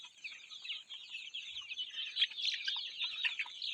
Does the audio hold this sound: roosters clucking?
yes